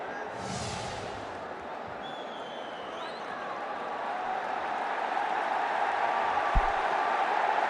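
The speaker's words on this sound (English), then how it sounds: "Crowd right behind him now." A large cricket crowd at a one-day international between India and England in Cuttack roars and applauds the batsman, a broad, steady wash of distant noise that slowly swells.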